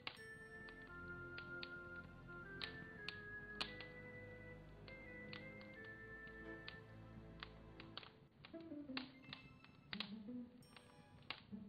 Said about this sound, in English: You hear the sound of the door creaking, followed by someone descending the ladder in the next room.